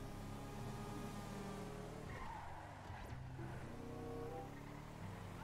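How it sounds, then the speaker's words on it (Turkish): A Chevrolet-style Granger 3600LX SUV driving in GTA 5 Online, a continuous loud engine drone with tire squeal and skidding sounds as it drives, steady and close without speech. "Hemen biraz hafif sürelim dedim."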